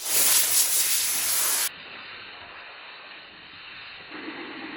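Compressed air hisses loudly in a continuous blast over a Yamaha intake to clear debris, then drops to a softer, steadier hiss with no talking.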